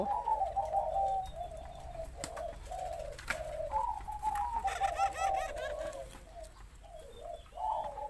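Spotted doves in an aviary cage cooing in repeated low phrases, fairly close and clear, with a few faint chirps and rustles between calls.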